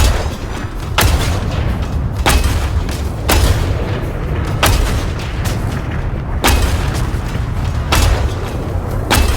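Heavy booms and gunfire from the multiplayer video game Sand fill the mix, loud repeated blasts arriving every second or so over a dense, rumbling background of battle noise.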